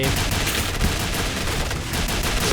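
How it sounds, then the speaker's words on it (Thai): Rapid bursts of Pindad SS3 rifle fire shot from a standing position at long range in a shooting game, dense overlapping gunshots forming a continuous loud volley with no talk. "ยืนยิงระยะไกล"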